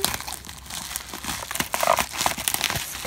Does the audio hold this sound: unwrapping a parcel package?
yes